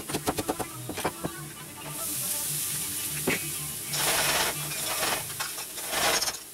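Chopped romaine lettuce and other vegetables tossed into a saute pan for egg rolls, with a few sharp knocks and scrapes first and then a steady sizzle that swells in bursts as the food is stirred, with no voices.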